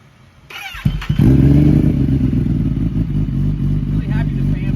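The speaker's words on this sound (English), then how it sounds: "I want to rev it and see if it spits" A Kawasaki ZX10 roll race bike that runs poorly starts up with a clatter and settles into a loud, close, steady engine drone with slight revs, while voices talk over it.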